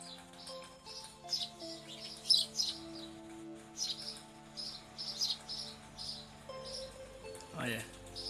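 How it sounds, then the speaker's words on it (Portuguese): A pair of woodpeckers on a small rural property give repeated high, sharp chirping calls in scattered bursts. A person talks quietly beneath the calls. "quero mostrar para vocês aqui no meu mini sítio um casal de pica-pau"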